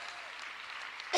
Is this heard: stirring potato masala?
no